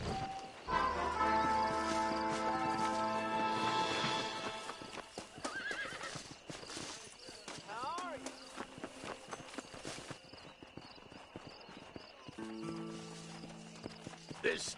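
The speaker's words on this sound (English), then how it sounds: "This steed looks right tetchy." Horse hooves clip-clop in Red Dead Redemption, a steady rhythmic trot with whinnies and neighs, set against game music and ambient sound.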